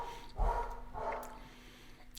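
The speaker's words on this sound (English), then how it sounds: "No barking. No barking." A dog barks twice at moderate distance indoors, two short muffled woofs about half a second apart with a faint steady hum behind them.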